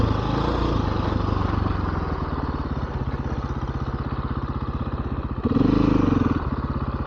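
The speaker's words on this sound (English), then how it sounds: "There's those pit bikes again." Pit bikes riding a Rampart Range trail in Colorado, a steady buzzing engine drone with a rhythmic pulsing note, close and continuous, swelling briefly near the end.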